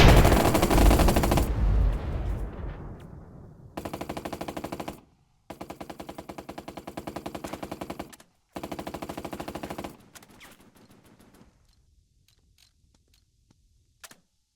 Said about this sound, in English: And since he can fire at this unit, we might as well.